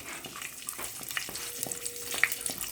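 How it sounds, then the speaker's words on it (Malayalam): Cashews and raisins frying in ghee for ada pradhaman payasam, a soft, close bubbling sizzle with light crackles and faint stirring clicks. "ഇപ്പം അണ്ടിപ്പരിപ്പ് ചെറുതായിട്ട് മൂത്ത് വരുന്നുണ്ട്."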